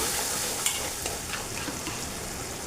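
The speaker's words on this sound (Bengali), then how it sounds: "দিয়ে হলুদটা মিশিয়ে নিই" Turmeric being stirred into frying tomato and ginger for alur dom, a steady close sizzle of oil with a few soft spoon scrapes and no voices.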